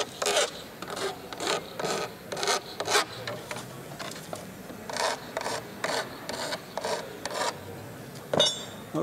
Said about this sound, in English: we deburred and rounded the edges a little tiny bit with the tin snips